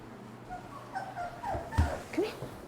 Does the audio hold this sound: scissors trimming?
no